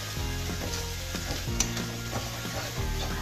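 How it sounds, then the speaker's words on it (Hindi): Dal in a pan being stirred with salt and red chilli, a low sizzle under repeated scraping strokes of a spoon against the pan, close and quiet. "मिक्स कर लेते हैं"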